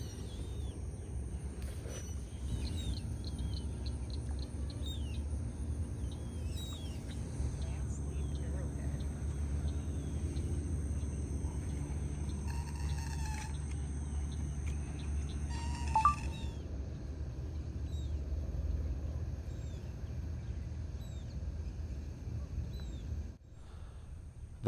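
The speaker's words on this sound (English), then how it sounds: "Bird out there." Faint, scattered bird calls chirp in the distance outdoors over a low rumbling background, with a few brief noises near the middle.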